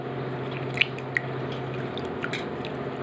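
Dried fish washed and swirled by hand in a vessel of water, giving soft wet squishes and occasional drips that sound close and steady, with no talking.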